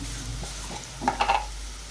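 Sliced onions fry in a pan, browning for a chicken curry, with a soft steady sizzle and a few brief scraping stirs of a utensil against the pan partway through.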